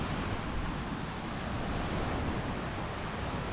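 Waves lap at a small sandy Lake Michigan beach, giving a steady, dense wash of surf that is mixed with some wind rumble on the microphone and holds at an even level with no voices.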